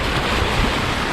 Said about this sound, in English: you can see how turbulent the ocean is through there, the waves crashing through there